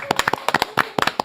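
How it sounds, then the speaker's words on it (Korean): Brief burst of audience clapping on a Korean talk show: a dozen or so sharp, distinct hand claps in quick irregular rhythm, close and crisp, with no talk over them. "추미애 의원님 따뜻한 박수로 모십니다."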